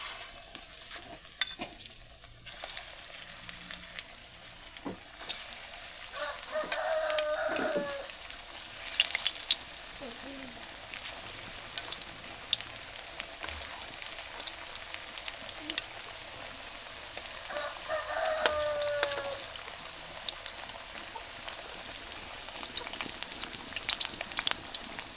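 Banana slices frying in hot oil, a steady bubbling sizzle with occasional stirring clatter and scraping, continuous and close throughout.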